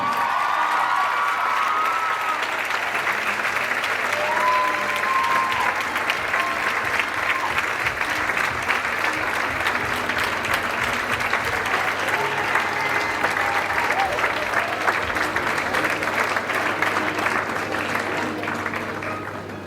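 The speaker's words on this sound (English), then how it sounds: "give a huge round of applause for Khadija Yahuza Kassim" A graduation audience gives long, dense applause for a graduating student, with some crowd noise and cheering mixed in, loud and sustained before slowly fading at the end.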